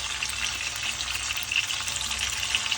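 Dried fish, daing and danggit, fry in oil over a low flame, giving a close, steady crackling sizzle with dense fine pops throughout and no voices.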